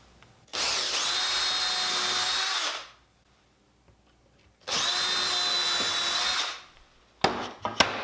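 A power drill boring holes through an old wooden sacrificial miter fence, two loud sustained bursts of whirring drilling separated by a quiet pause, followed by brief clatter.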